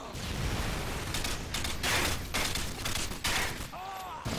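Rapid bursts of gunfire from a burst weapon in a shooter video game, loud and close, with shots overlapping in dense volleys for the whole stretch.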